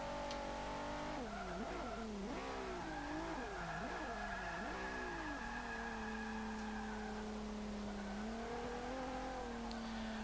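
Engine of a 2014 Infiniti Q50 Eau Rouge in the Forza 5 racing game, revving up and down through several quick gear changes, then settling into a steady high-pitched drone at speed, loud and continuous with no talk.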